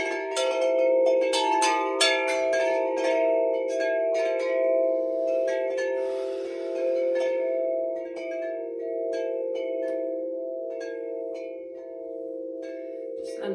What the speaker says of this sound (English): so I'm just going to get the chimes